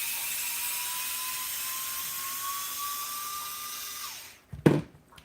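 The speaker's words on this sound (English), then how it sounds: "Don't use a hand drill to put stuff together. Only use it to take stuff apart." A hand drill whines steadily while backing out fasteners, holding one pitch for about four seconds before winding down, then a short clatter of loose parts follows near the end.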